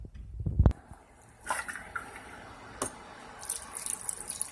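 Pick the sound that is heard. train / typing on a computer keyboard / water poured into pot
water poured into pot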